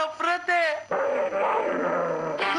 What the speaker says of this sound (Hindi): ये तो हमेशा ही भौंकता रहता है